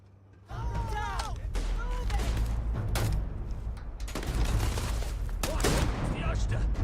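Sustained gunfire from a shootout in the Starfield video game, with dense overlapping shots and bursts filling the whole stretch at close range, loud and continuous, while voices shout at times through the firing.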